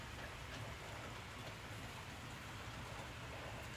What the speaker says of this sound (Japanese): あっという間にもうすっごい雨。